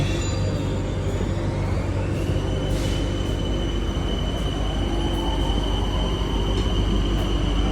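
Steady rumble of an electric metro train running, with low droning wheels on rails and a faint high whine rising partway through, continuous and close.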